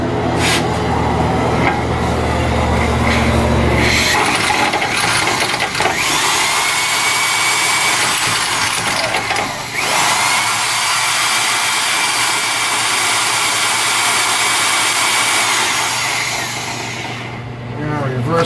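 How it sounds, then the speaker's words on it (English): A drill motor whirs loudly while spinning the ring gear of a GM 12 bolt differential during a regear, a sustained high motor whine that steps up in pitch and runs continuously for many seconds before winding down. "I'm going to spin it with a drill motor."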